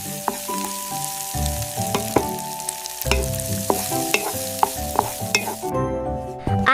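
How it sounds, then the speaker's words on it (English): Food sizzles and fries in a pan while a utensil stirs and scrapes it, with repeated clinks and knocks over a continuous crackling hiss. "I am cooking."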